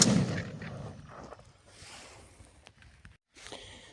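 A Benelli 828U over-and-under shotgun fired outdoors with a 26-gram cartridge through a quarter choke, one loud sharp report at the start decaying into a long fading echo, followed by quieter rustling.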